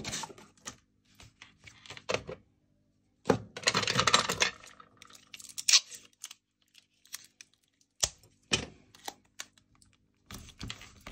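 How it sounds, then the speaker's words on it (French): Adhesive tape is pulled and torn off in short crackling bursts, with scattered small clicks and handling noises in a quiet room. "je mets un petit bout de ruban adhésif,"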